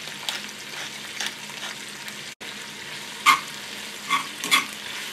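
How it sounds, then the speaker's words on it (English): Onions sauteing in butter in an iron skillet give a steady low sizzle, with a few brief louder pops and stirring scrapes near the end. "we're just going to get our onions sauteing up in there in that butter"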